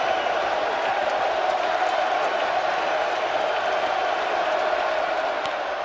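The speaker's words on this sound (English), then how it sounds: "The crowd was chanting Roger" A large stadium crowd at Fenway Park during Game 6 of the 1986 World Series chants for Roger Clemens. The roar is dense and sustained and stays at an even level, a wash of massed voices throughout.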